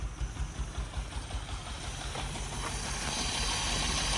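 A BMW E30 garage find, unused for eight years and smoking after its first start, runs with a steady engine drone. Faint rhythmic pulsing at first gives way to an even, hissy hum.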